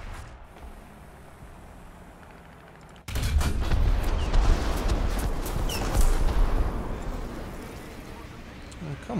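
A tank main gun fires in War Thunder, an abrupt loud blast a third of the way in that rolls into a long rumble and mechanical clatter, with a voice talking over it.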